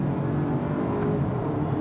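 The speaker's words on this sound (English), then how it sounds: "It sounds like a 4-cylinder turbo." A four-cylinder turbo engine in a 2019 Acura RDX A-Spec SUV gives a steady, muted drone from inside the cabin, a low even hum with no distinct revs.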